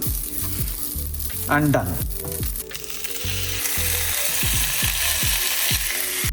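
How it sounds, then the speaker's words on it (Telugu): Chicken coated in masala frying in a pan, a steady loud sizzle with stirring clatter throughout and a short spoken word near the start. "లైట్ గా చికెన్ లో మసాలా లేసి ఫ్రై చేసేద్దాం"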